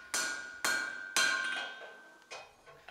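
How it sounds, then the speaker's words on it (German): A hammer strikes hot metal while an axe is forged, four sharp, close, ringing blows at uneven intervals, each decaying with a metallic tone. "Immer wieder schlägt er mit dem Hammer auf das Metall."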